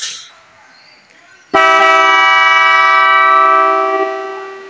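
After a short stretch of quiet background, a loud, sustained aftermarket Mitsuba horn on a Toyota FJ Cruiser blasts up close, a bright steady tone held for several seconds.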